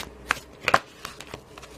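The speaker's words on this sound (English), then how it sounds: "I'm just going to give them a quick second shuffle" Rider-Waite tarot cards get a quick shuffle, with a few short crisp riffling bursts close to the microphone in a quiet room and no talking.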